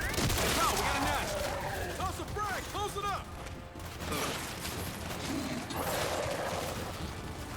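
Heavy-recoil weapon fire in Gears 5, a burst of booming shots with metallic mechanical clanks and ratcheting, loud and close under a voice.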